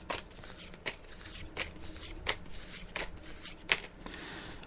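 Tarot cards being shuffled at close range, a steady papery riffle with sharp slaps and flicks at irregular intervals, no voices, faint room noise underneath.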